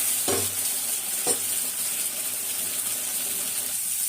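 Potato chips fry in a pan at home with a loud, steady bubbling sizzle, broken by two brief stirring knocks early on.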